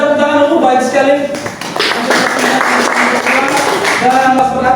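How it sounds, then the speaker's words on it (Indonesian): A classroom group claps together, a short round of brisk hand claps mixed with voices of students talking and a speaker over them. "tepuk tangan dulu, baik sekali"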